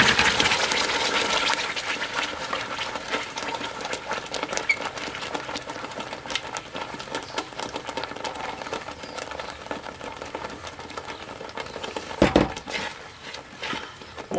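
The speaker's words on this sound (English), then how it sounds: "With the butter hot, we're going to add our sauce." Sauce hits a pan of hot melted butter for green spaghetti, giving a steady close sizzle and bubbling patter that runs throughout with little change, one brief louder clatter near the end.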